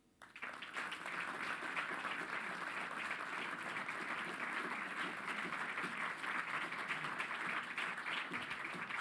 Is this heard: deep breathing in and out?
no